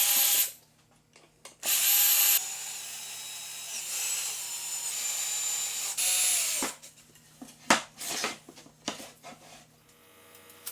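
A power drill pre-drills holes and drives screws to fix T-track onto a wooden table saw sled, with several loud whirring bursts of varying length, separated by short pauses and a few sharp clunks near the end.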